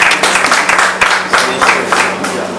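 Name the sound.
audience applauding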